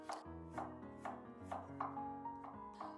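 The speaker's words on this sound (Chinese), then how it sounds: "生姜给它切成薄厚均匀的片" A knife slices peeled ginger into thin, even pieces on a cutting board, roughly eight sharp chopping strokes at a steady rhythm, close and clear with no talking.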